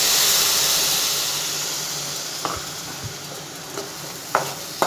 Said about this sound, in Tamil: இப்போ புளியை ஊற்றிடலாம்.